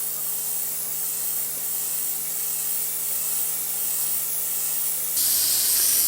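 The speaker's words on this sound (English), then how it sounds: "When spraying in the yellow, keep it nice and even." Aerosol paint can spraying hard-anodized yellow onto an RC car body shell: a steady, close hiss running continuously, growing slightly louder and brighter near the end.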